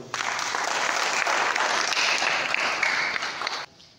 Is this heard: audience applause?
yes